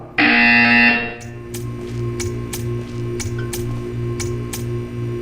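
A loud buzzer tone sounds in Portal 2 for about a second, then cuts off. A steady low hum follows, with a faint regular tick recurring underneath.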